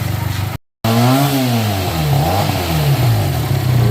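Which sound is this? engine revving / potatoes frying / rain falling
engine revving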